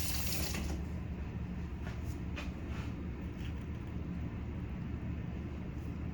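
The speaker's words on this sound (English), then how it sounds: "Let me rinse it off and try it again." Tap water runs steadily into a sink while something is rinsed off during coleslaw preparation, a continuous close splashing hiss throughout with a brief louder burst at the start.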